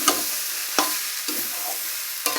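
Beaten eggs stirred through a pea ghugni fry in a pan with a loud, steady sizzle, punctuated by four sharp spatula strikes spaced about half a second apart.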